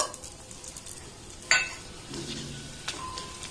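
Whole cardamom, cloves and crushed cinnamon frying in ghee, a soft sizzle with a sharp metallic clink and scraping of a spoon stirring in the pan, close and brief, without talk.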